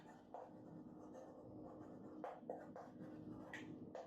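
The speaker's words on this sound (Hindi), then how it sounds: "चलिए क्वेश्चन लिख देता हूं" Pen or pencil writing out a physics question on paper, faint close scratching strokes in short bursts with brief pauses between them, no talk.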